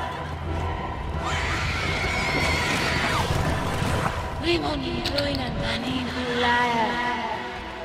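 A horse in Lego Lord of the Rings on PC gives a high whinny that falls away, then a second neigh later, heard over game sounds and music while someone talks.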